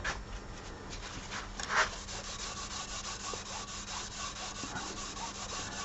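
A cloth buffs wood wax onto a turned wooden playing piece, producing a close, continuous dry rubbing hiss with a brief louder swipe early on, alone without speech.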